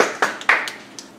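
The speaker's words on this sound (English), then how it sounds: "Clap, clap, clap, clap, clap, clap, clap." A few scattered hand claps from a small audience right after congratulations at a school athlete-of-the-week announcement, sharp, separate bursts that quickly thin out.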